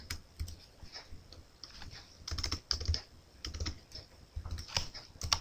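Quick bursts of typing on a computer keyboard as a localhost URL is entered during CodeIgniter setup, with clustered clicky keystrokes separated by short pauses, close and fairly quiet, no talking.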